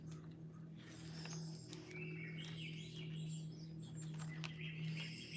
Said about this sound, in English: as the birds come in